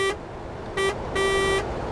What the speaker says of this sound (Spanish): su claxon sí es como de bicicleta